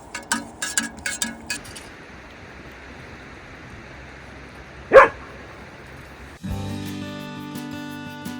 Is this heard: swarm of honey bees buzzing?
no